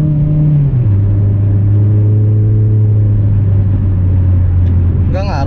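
Engine of a Toyota MR2 second-generation W20 pulls steadily in overdrive, a loud, close, continuous drone that drops slightly in pitch early on and then holds level, with a brief higher sound at the very end.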